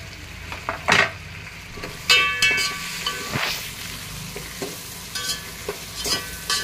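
Onions and tomatoes sizzle in a pot for chicken dum pulao while a spoon stirs, scrapes and clinks against the metal in irregular bursts over a steady frying hiss.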